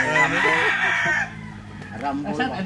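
A gamefowl rooster on a poultry farm crows loudly and clearly in one long, drawn-out call, followed by quieter clucking and faint background sounds.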